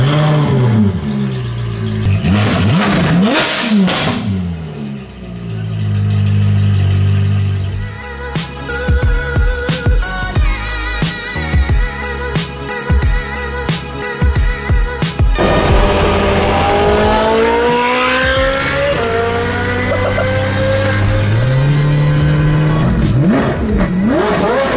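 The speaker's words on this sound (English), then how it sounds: "this is a Ferrari naturally aspirated V8 and it has no cats, so it's proper loud and it screams" A Ferrari 458 Speciale's naturally aspirated V8 with a catless iPE exhaust screams through hard revving and upshifts, with sharp crackles and pops between pulls. Loud, close and continuous, with no voices.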